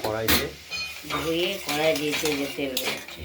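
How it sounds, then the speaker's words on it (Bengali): Fish oil with vegetables, dried red chilli, bay leaf and nigella seeds stirred in a wok, metal spoon scraping and clinking over a soft sizzle while someone talks throughout. "কড়াইতে নাড়াচাড়া গরম করছি।"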